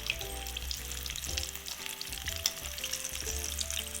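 Coated fish pieces fry in hot oil, giving a steady, close sizzle and crackle that holds level throughout with no talk over it.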